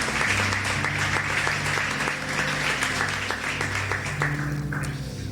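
A church congregation applauding in praise during a service, steady dense clapping sustained throughout over a low musical drone of keyboard or organ chords.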